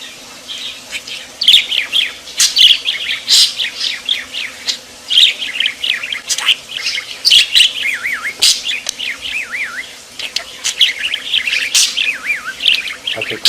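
A pet bird named Victor chirps and tweets close by in rapid bursts of high trills, whistles and squeaks that rise and fall irregularly with short pauses, loud and alone.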